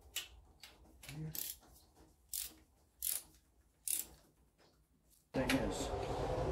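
A ratcheting wrench works on the intake bolts of a 1996 Ford Mustang during an intake gasket install. Several short, close bursts of ratchet clicks are separated by pauses, and a loud sustained noise cuts in near the end.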